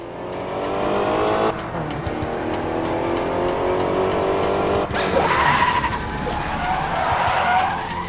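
A car in the video game Crash Time 5: Undercover brakes hard with a long, loud tire screech and skid over steady engine roar, the squeal surging again midway as the vehicle slides.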